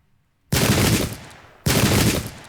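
Two loud, sharp bursts of massed gunfire sound in the video game Pike and Shot, each volley cracking out suddenly from silence and rolling into a decaying roar, about a second apart.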